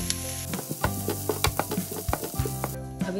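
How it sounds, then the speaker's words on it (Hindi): Chopped onions frying in hot oil in a pan, giving a steady, close sizzle with small crackles and stirring scrapes throughout. "तेल गरम हो गया, इसमें मैं डाल देती हूँ प्याज और इसे भून लेंगे।"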